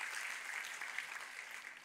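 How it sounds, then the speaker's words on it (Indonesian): A church congregation applauds during a sermon, a soft, even wash of many hands clapping heard from a distance for a couple of seconds. "Kita kasih tepuk tangan yang paling meriah buat Tuhan kita."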